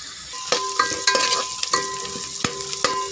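Onion sizzling in hot oil for chicken pulao, a steady close hiss broken by sharp clicks and scrapes of a spoon stirring against the pot, with no talk.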